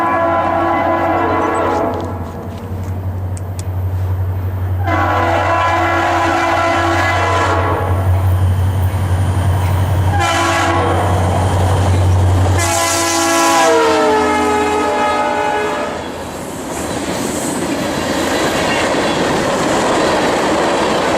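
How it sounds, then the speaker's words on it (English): Norfolk Southern freight train H31, led by an SD40-2 locomotive, rumbles steadily past on the Harrisburg line at Richland, with long horn blasts sounding repeatedly over the rolling clatter of the cars. "The last train to come before total darkness was H31 returning, with 3001 returning trailing along with SD4S2 3355 leading."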